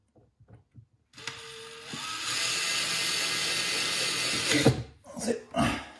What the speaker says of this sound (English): So I've got my electric screwdriver.